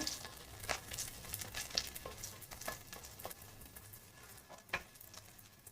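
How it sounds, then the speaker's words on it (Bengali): Onions fry in a pan until nearly brown, giving a faint, quiet sizzle with scattered stirring clicks and scrapes. "আর এদিকে পেঁয়াজটা ভাজা চলছে, প্রায় ব্রাউন ব্রাউন হয়ে গেছে"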